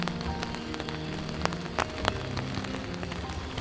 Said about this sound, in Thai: ได้ยินเสียงฝนไหมครับเนี่ย